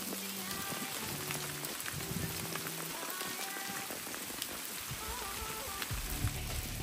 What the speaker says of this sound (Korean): 비를 계속 맞아서 온몸이 다져졌어요.